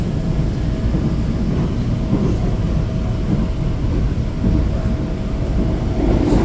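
Inside a moving train in Korea, standing beside the automatic doors: a loud, continuous rumble of wheels and carriage noise, steady throughout and slightly rising at the end.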